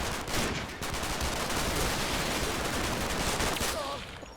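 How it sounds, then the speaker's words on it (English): Bren gun fire rattles in the Combat Mission World War II game, a dense continuous burst of automatic shots at moderate loudness lasting several seconds before tailing off. "There was definitely a Bren gun going off there."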